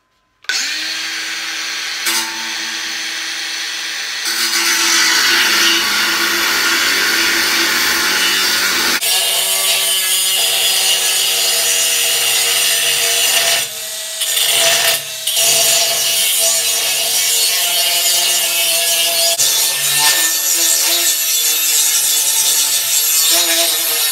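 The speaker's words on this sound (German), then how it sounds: "5 mm Stahl mit dem Winkelschleifer, schaffen wir das?" A cordless angle grinder cuts through 5 mm steel: a loud, steady, harsh abrasive grinding that runs almost without a break, shifting in pitch as the disc bites, with brief dips near the middle.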